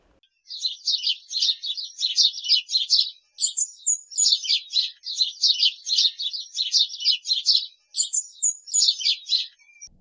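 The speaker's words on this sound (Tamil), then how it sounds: "சிட்டுக்குருவிகள் சின்ன குருவிகள் செல்லக்குருவிகள்" A flock of house sparrows chirps in dense, repeated bursts of bright twittering, loud and close, continuing through the whole stretch with only brief pauses and no voices.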